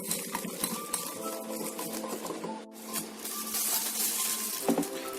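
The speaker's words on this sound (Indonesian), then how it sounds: "Kocok sampai mengembang, bahkan sampai lembut dan kental ya" A hand whisk beating Milo dalgona cream without a mixer, a steady fast scraping and clicking of metal against a bowl, close and continuous with a brief pause midway.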